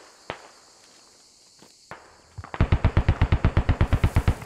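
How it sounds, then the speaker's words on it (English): Gunfire in the video game Squad: a rapid, evenly spaced burst of about fifteen sharp shots, loud and close, following a few isolated distant cracks over a quiet background. "Somebody's shooting to our left."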